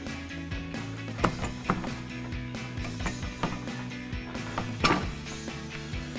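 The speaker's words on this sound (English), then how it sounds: "grab a hold of the light and pull it straight forward" A 2009-2014 Ford F-150 headlight assembly being pulled forward out of its housing, giving quiet plastic creaks and several sharp clicking snaps spaced irregularly over a low, steady background hum.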